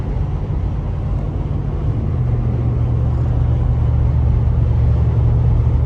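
Wind noise inside the cabin of a Mercedes-Benz G63 AMG while driving, a steady broad rushing hiss over a low road and engine drone, continuous and fairly loud, with no voices.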